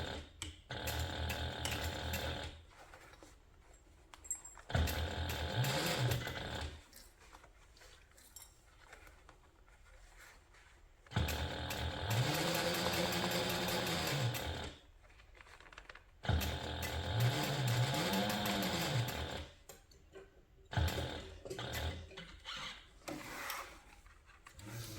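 A sewing machine top stitching a handbag runs in several mechanical bursts of rapid clattering stitches, separated by quiet pauses, close and fairly loud with no talking.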